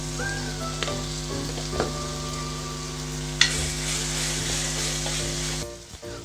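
Chili, turmeric and coriander powders sizzle steadily in a hot pan for a prawn and raw mango curry, a close, even frying hiss with a few soft stirring scrapes and no talking.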